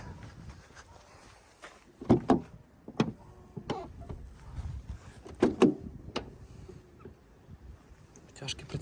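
Soft-close door closers on a 2012 BMW X5 E70 40d pulling doors shut, a series of short mechanical clunks and whirs at close range, with someone talking between them.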